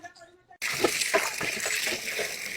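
Water poured into a pot of greens in a village kitchen, a steady splashing stream that starts abruptly after a quiet moment and runs on without pause.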